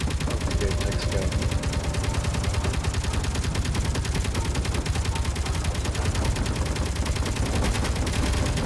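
A Gatling turret in the Space Engineers video game fires nonstop, a dense, loud, even rattle of rapid shots that holds steady throughout.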